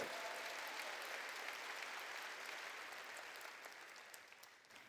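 A church congregation claps after a sermon, producing sustained, dense applause that fills the hall. It is steady and moderately distant, and it slowly fades toward the end.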